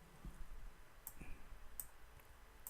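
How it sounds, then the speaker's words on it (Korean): Several sharp mouse clicks sound at irregular intervals while placing picture frames in the RELUX 3D interior design program, quiet and close against a low room hum, with no talk. "자, 여기 하나 또 클릭."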